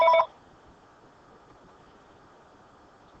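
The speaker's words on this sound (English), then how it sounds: "My phone was ringing." A mobile phone rings in a brief, bright burst of tones at the very start, then cuts off, leaving only a low, steady room hum for the rest.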